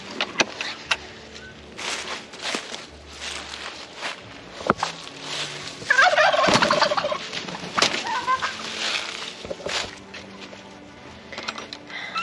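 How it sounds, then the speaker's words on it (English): Heritage breed turkeys gobbling in a backyard flock, several loud bursting calls rising over a quiet outdoor background, with a footstep or two and faint rustling between them. "heritage breed turkeys"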